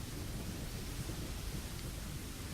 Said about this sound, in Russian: буря впечатляющая